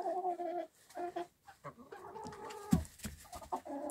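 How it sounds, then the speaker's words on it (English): A rooster clucks and makes short throaty calls close by, in uneven bursts with brief pauses between them. "So supposedly that one might be a rooster."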